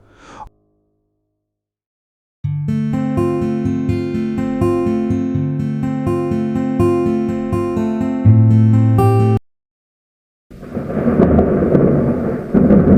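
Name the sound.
loud thunder and rain in a cartoon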